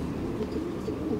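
Pigeons coo softly in a loft, a low murmuring hum of several birds close by that carries steadily through the short moment with no talking.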